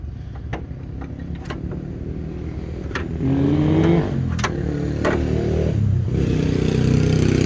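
Gasoline engine of an older Datsun car idling and revving up, a steady low mechanical rumble that swells louder midway and holds, with a few sharp clicks and knocks on top.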